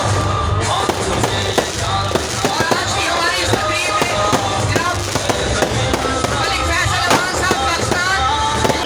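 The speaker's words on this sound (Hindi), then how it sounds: "जलसा शुरू होने से पहले आतिशबाजी का बहुत बड़ा मुजाहरा किया गया है" Fireworks burst in dense, continuous crackling volleys before a political rally in Kamala Abad, Pindi Cantt, with sharp bangs popping throughout and a crowd murmuring beneath.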